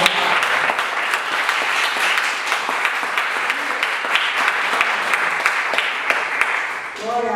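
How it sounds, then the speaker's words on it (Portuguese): A church congregation applauds steadily for several seconds during a worship service, with dense, sustained clapping that fades slightly near the end, mixed with a few voices. "Vamos aplaudir o Senhor por essa palavra."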